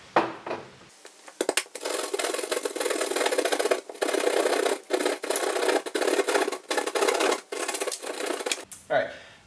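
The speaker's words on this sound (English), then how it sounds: "I'm using a flathead screwdriver to mark the wall." A flathead screwdriver scrapes against a wall to mark it, making repeated loud, close rasping strokes separated by short pauses.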